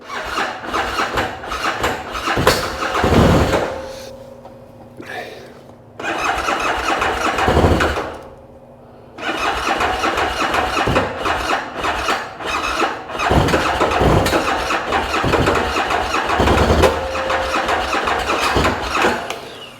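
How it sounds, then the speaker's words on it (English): A 2013 Bennche UTV engine cranks with a squealing starter, fires up and runs loudly up close, its note surging and dropping, then is cranked and restarted for another stretch of running. "now it fires up and runs for a minute"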